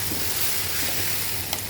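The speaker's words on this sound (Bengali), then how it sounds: "বুটটা আমি এখন দিয়ে দিলাম কড়াইয়ে" Spiced chickpeas with fried onion frying in a wok, giving a continuous soft crackling sizzle throughout with no voices.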